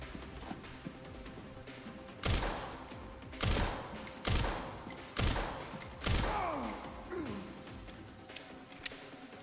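Gunshots in the video game Resident Evil Requiem, several sharp loud shots spaced a second or so apart, each ringing briefly over quiet ambience.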